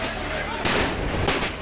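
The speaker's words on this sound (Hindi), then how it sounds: "दुकानों में रखे पटाखे जबरदस्त तरीके से फूटने लगे।" Firecrackers stocked in a burning shop on Gola Road go off during a Diwali fire, two sharp loud bursts breaking through a dense roar of noise.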